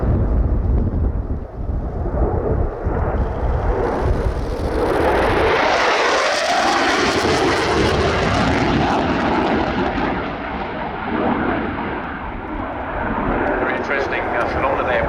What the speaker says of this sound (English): the noise of the aircraft doesn't actually reach you until the aircraft has almost gone past